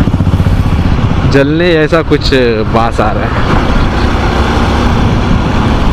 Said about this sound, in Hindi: बहुत टाइम बाद जो है अभी स्पीड पकड़ी है बाइक को